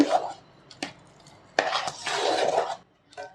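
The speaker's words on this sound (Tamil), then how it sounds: "ஒரு பிஞ்ச் அளவு சால்ட்டு சேர்த்து நல்லா கலந்து விட்டுக்கோங்க" A spoon stirs sweet pongal in a metal pot after a pinch of salt goes in, giving a few close clinks and scraping rubs with short pauses between strokes.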